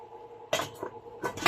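A metal lid set onto a cooking pot of chicken tinola with papaya, a few close clinks and clanks of metal on metal in quick succession.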